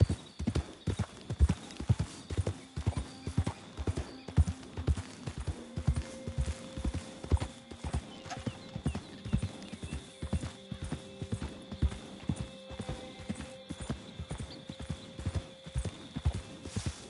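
Horse hooves in Red Dead Redemption 2 pound in a steady, rapid clip-clop rhythm at close range for the whole stretch, with a few low neighs and snorts mixed in and no talk over them.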